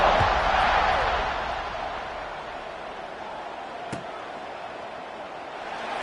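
A stadium crowd in a college football video game keeps up a steady, broad roar, loudest at the start and easing slightly, with one brief sharp knock partway through.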